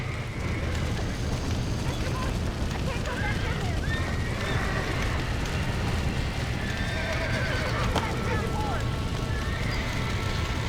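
Horses whinny and neigh in a video game, amid a constant loud din of clattering hooves and rumbling background noise, close and continuous.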